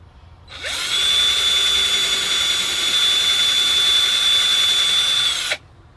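Power drill boring holes for mounting a light fixture inside a coach, one continuous loud high-pitched whine that spins up, holds steady for about five seconds and stops abruptly.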